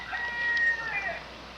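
Chicken calls on a farm, a single short crow or clucking call from a nearby bird, fairly clear over a faint background hiss, lasting about a second.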